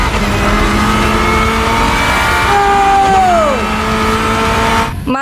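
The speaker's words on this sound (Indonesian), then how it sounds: "Ini mobil balap" A toy-like race car with eyes on its body revs hard alone, its engine whine sweeping up and then bending down in pitch as it passes close by, ending in an abrupt cutoff.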